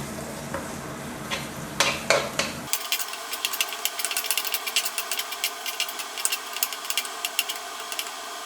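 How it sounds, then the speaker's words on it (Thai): Pounded garlic stir-frying over low heat in a pan, with a soft continuous sizzle and repeated scraping of a spatula close by, no talking. "ใช้ไฟไม่ต้องแรงนะครับค่อยๆผัดจนหอมนะครับ"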